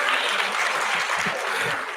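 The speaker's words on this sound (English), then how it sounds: "Y'all give her a round of applause." A dense, steady wash of applause from a crowd at a K-8 promotion ceremony, loud and continuous throughout with no clear breaks.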